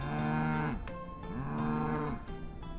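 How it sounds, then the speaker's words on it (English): A cow moos twice in a row in a farm-animal nursery rhyme, each call a loud, close, drawn-out low bellow with a bending pitch, separated by a brief pause. "The mother cow says moo, moo, moo, all through the town."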